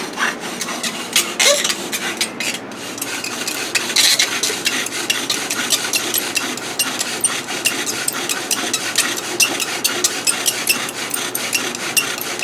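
A cedar bow drill spins back and forth against a wooden fireboard, giving a steady, rhythmic rasping rub that continues for several seconds, close and fairly loud, with no talk.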